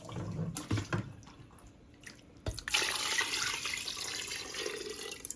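Water poured into a cooking pot over lamb meat for a stew, a few soft splashes and drips at first, then a steady, close stream of running water.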